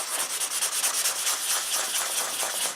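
A leather-embossing spoon tool is rubbed against a coarse-grit abrasive. The dry rasping comes in quick, regular back-and-forth strokes, close and fairly loud, with no voices.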